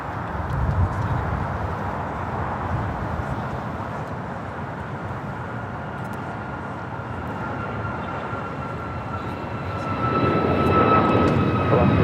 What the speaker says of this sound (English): This is Alaska Airlines 1147 taking off to Seattle on a MAX 9